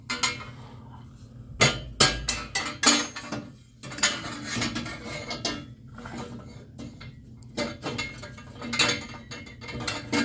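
A hand tool works on a hose clamp in a car engine bay, giving bursts of metallic clicks, ratcheting and clanks in irregular clusters, fairly close and alone.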